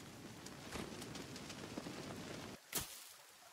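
Rain falls steadily in the survival game The Forest, a broad even hiss with scattered drops that cuts off abruptly near the end, leaving a brief sharp noise and near-silence.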